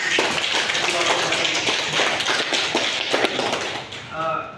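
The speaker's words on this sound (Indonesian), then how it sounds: "Mari kita beri tepuk tangan dulu." Applause from participants at a curriculum lesson-planning workshop in Larantu: a dense, steady patter of many hands clapping for about four seconds, with a voice starting to speak as it fades.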